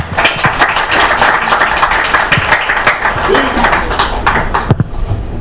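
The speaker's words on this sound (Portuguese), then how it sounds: "Mais uma salva de palmas." Clapping from a symposium crowd after an acupuncture lecture on low back pain fills the room with steady, many-handed applause that fades out near the end, and a voice talks faintly beneath it.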